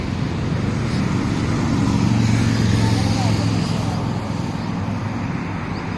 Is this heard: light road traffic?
yes